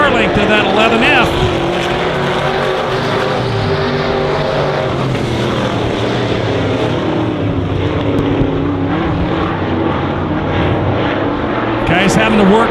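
Stock cars, sport mods and dwarf cars race around the Honor Speedway dirt track, engines roaring loud and continuous as they chase into a turn, under constant excited announcer commentary.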